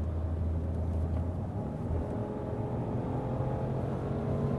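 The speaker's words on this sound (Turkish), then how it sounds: "Ben motorla beraber, motor tınısıyla beraber ara bak ara gazlar da veriyor." Citroen C4 Cactus engine droning steadily from inside the moving car, with low rumbling road noise and mild swells as the throttle is blipped during gear changes, continuous and fairly loud throughout with no talking.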